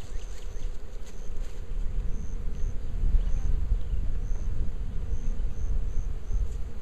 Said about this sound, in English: We're just going to shake in some bees for them.